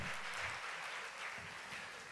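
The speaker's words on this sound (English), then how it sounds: "A warm round of applause." A small audience gives a warm round of applause at a live event, with steady, fairly quiet clapping filling the whole moment and no voices above it.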